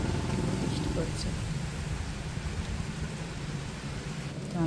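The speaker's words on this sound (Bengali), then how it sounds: "কি জোরে বৃষ্টি পড়ছে" A heavy downpour roars steadily and loudly, with a dense, continuous wash of rain on surfaces that stays unbroken from start to end.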